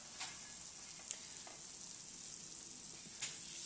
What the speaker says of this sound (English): You can see it sizzling up.